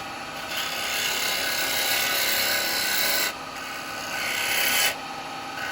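A woodturning chisel shears across a spinning Meranti wood bowl on the lathe, a steady close rasping hiss that fades briefly twice as the tool lifts off, with no talking.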